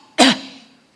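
A single sharp, loud cough, demonstrated during a church sermon, bursts out close by, then quickly fades into silence.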